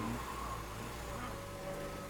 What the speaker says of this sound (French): Le moteur de voiture bombit. Les pneus patinent dans la boue.